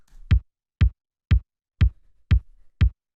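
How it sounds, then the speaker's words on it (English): A tight, short, thumpy deep house kick drum sample repeats six times at an even tempo, each hit a punchy low thud with a quick click and fast decay, dry and alone. "Next thing we have here is the kick, which sounds like this."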